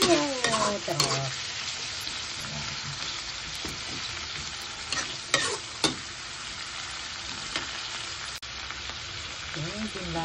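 Food frying and sizzling in a pan, stirred with scraping and clinking strokes throughout, steady hiss close by with no talk.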